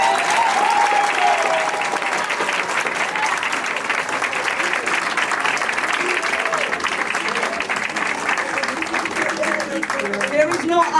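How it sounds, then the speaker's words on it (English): Crowd at a community event breaks into a sustained round of applause, loud, continuous clapping throughout with scattered cheers and voices mixed in. "everybody give her a round of applause"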